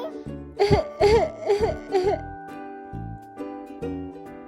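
A child coughs a few times in quick, bursty succession during a pretend doctor game, close up, with brief voiced sounds and a bit of giggly vocalizing mixed in.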